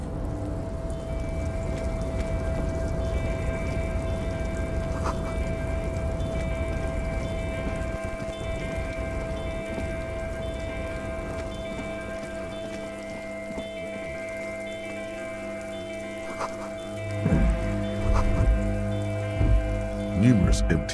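Steady rain falls throughout a scene in the video game Disco Elysium, a continuous patter under soft tonal background music, with some louder knocks and shifts near the end.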